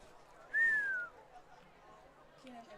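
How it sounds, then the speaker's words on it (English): A referee's whistle at an AFL football game gives one short, shrill blast that slides slightly downward, rising clearly above a low murmur of crowd chatter. "The ref has blown the whistle out of bounds, I believe, on the play."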